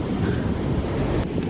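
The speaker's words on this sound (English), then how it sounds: "The surf is quite big." Big surf rolling onto the beach at El Cotillo, Fuerteventura, a steady loud wash of breaking waves heavily mixed with wind buffeting the microphone.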